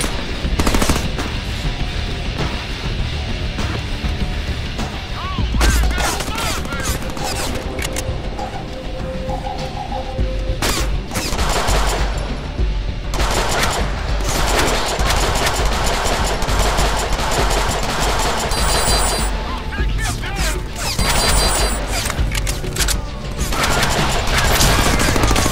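Dense, rapid gunfire from the Deadpool video game, loud and nearly continuous bursts of automatic weapons with scattered booms and impacts, filling the whole stretch with no speech.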